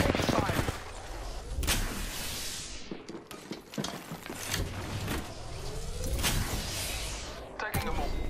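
Gunfire in an Apex Legends firefight, bursts of sharp shots spread across the scene amid mechanical clatter and game effects, fairly loud and close.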